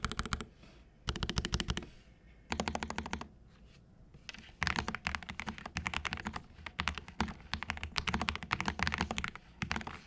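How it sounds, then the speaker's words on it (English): Typing on a KZZI i75 V2 low-profile keyboard: fast bursts of crisp key clicks with short pauses between runs, close and clear, with no talking. "Here's a typing test for the keyboard nerds."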